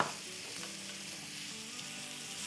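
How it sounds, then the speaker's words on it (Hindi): Chopped tomatoes sauté in a hot pan for tawa chicken, giving a steady, close sizzle with soft stirring scrapes throughout and no voices. "बस इसको हम थोड़ा सा सौटे करेंगे कि टमाटोज़ हमारे टेंडर हो जाएं, नरम हो जाएं थोड़े से।"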